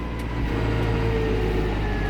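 A Claas Ares 557 tractor's diesel engine with a mechanical injection pump, no common rail, runs at a steady, loud, close drone with no talk over it.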